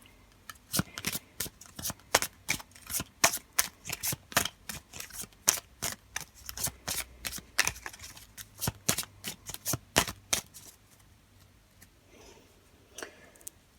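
A deck of tarot cards is shuffled and cut up close, giving a long run of crisp, rapid card slaps and flicks in a quick steady rhythm for about ten seconds before they thin out into a few softer taps.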